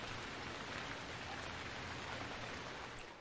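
Steady rain falling in the Stranded Deep survival video game, a dense even hiss of downpour on surfaces that runs unbroken throughout with no voices.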